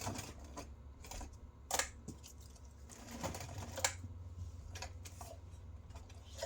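A sewing machine running a box stitch on a small fabric wand holster, irregular rapid mechanical clicking and whirring bursts with pauses between runs, up close.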